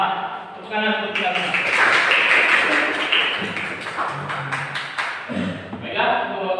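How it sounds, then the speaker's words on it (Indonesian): Classroom of vocational school students clapping together at the start of a lesson, a dense burst of hand claps lasting several seconds with voices before and after. "Tepukan untuk kita."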